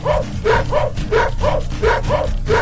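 A cartoon dog barks in a quick, loud series of about eight yips and bow-wows, close and dominating the short stretch with no talking over it.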